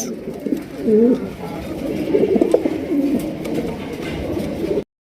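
Black king pigeons coo nearby in a loud, throaty series of low rolling calls, alone with no talk, cutting off abruptly at the end.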